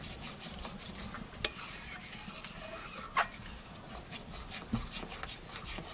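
Cream being stirred in a pot on a low flame while ghee is made in a Bengali village kitchen: faint, steady scraping and rubbing with a few sharper knocks of the spoon against the pot.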